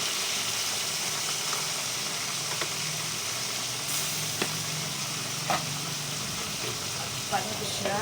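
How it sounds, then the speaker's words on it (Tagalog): Fish frying in hot oil in a pan while cooking sayote, a steady soft sizzle with occasional crackles and pops, quiet and continuous with some background noise. "Magperito ako ng isda."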